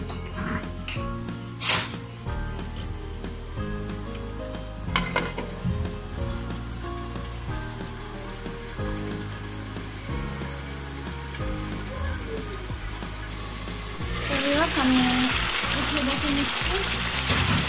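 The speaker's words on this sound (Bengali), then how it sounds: "চিকেনগুলো দিয়ে আমি রান্না করে নিচ্ছি ভিউয়ার্স।" Chicken pieces cook in a covered pan over medium heat with a steady soft sizzle beneath continuous background music, the frying noise swelling louder and brighter toward the end.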